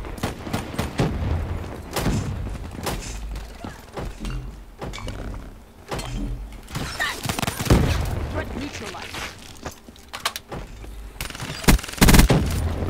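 Gunfire in Call of Duty: Black Ops III team deathmatch on Xbox One comes in repeated bursts and single shots with heavy thumps, while a person talks over the action.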